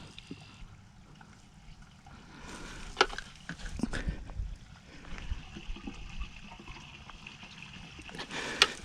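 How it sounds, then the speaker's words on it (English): Water trickles and flows through a repaired drain tile pipe in a field, a low steady gurgle that swells as pressure is applied, with a few bumps and handling knocks. "you can hear the water start flowing more."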